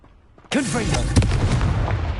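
Confringo fire spell blast in the Hogwarts Legacy video game: a sudden loud burst after a quiet moment, followed by a sustained roaring, crackling rumble with a voice and swooping game effects over it.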